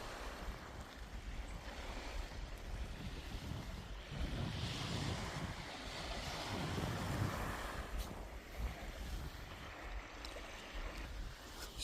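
An icy cold breeze blows off the water at a beach, rushing steadily into the microphone while waves wash in and swell, the surf rising to a louder surge midway before easing, with no talking.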